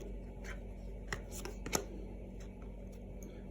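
Tarot cards are shuffled and drawn during a reading, heard as faint papery riffles and a few soft slaps over a low steady room hum, with no talking.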